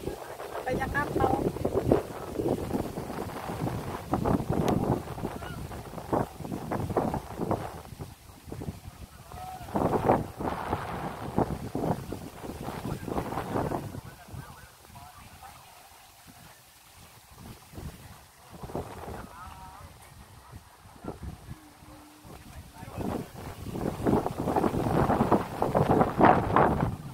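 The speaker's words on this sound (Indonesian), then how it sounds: "Dayung-dayung, kapalnya lagi banyak ya." Breezy seaside beach with many boats on the water: wind buffets the microphone and water laps steadily, with people talking throughout and a quieter lull midway.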